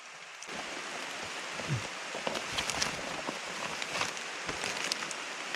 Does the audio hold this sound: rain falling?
yes